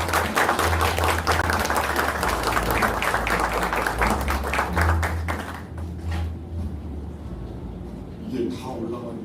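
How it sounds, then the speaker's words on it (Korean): Loud sustained applause from a party gathering welcoming a leadership candidate before a policy speech, dense clapping that fades out midway, followed by quiet room sounds and faint talk. "힘찬 박수로 맞이해 주시기 바랍니다"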